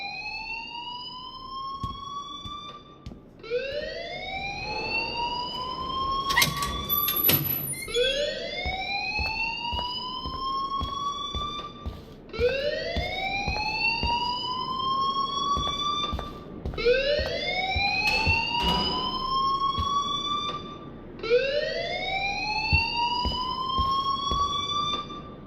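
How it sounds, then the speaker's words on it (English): A fire alarm in the video game Life Is Strange wails in repeated rising electronic sweeps, about every four seconds, loud and steady throughout with no voices. "please turn off that alarm since that's your job"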